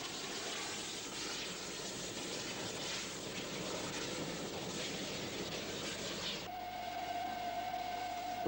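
Steam locomotives work hard on the old Midland Railway route between Skipton and Hellifield, a steady loud roar of exhaust and running, with a tonal whistle-like hum toward the end.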